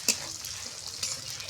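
Crushed garlic, chopped onion and a few green chillies fry in hot oil with a steady, close sizzle and one sharp splash or clink at the start, no talking.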